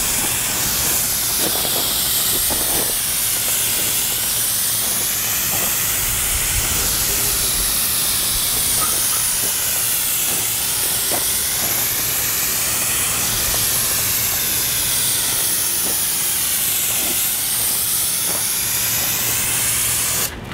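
An airless paint sprayer spraying paint onto house siding, giving a loud, steady hiss that runs unbroken throughout with no talk.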